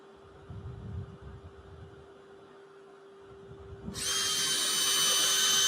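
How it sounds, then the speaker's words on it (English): After a few seconds of quiet handling noise, a power drill abruptly spins up to a loud, high, steady whir that continues to the end, drilling at an angle into live-edge wood. "I'm putting this drill in at an angle"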